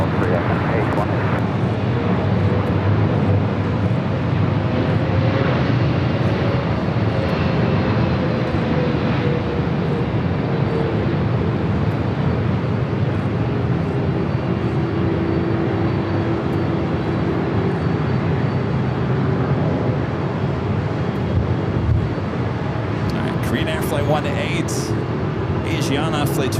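An airliner lands at LAX airport, its engine roar a steady, loud rumble that holds throughout, with faint talk over it.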